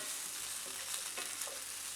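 Already-cooked bacon sizzles quietly as it warms in a pan, a soft and steady frying hiss with faint crackles and no voices.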